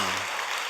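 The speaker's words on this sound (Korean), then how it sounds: "할렐루야, 박수 한번 하겠습니다." Church congregation applauding during a Friday evening revival service, a dense burst of clapping filling the room for under a second.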